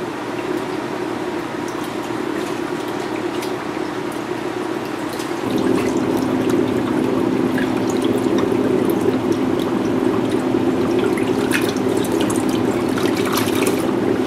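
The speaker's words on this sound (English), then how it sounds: "I'm going to take the spawning mops one at a time and I'm going to shake them off in this pan of clean water" Spawning mops holding Dawkinsia rohani fish eggs are shaken in a pan of clean water, making continuous sloshing and dripping that grows louder and fuller partway through, close and without speech.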